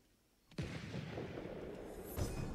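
A black powder bomb bursts in the video game Ghost of Tsushima, a sudden boom followed by a sustained rumbling crackle, then a second thump near the end.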